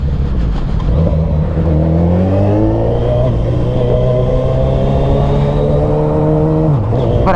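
Engine of a Suzuki Hayabusa motorcycle under way, a loud continuous drone that climbs steadily in pitch through the gears before dropping abruptly near the end, with strong wind rush.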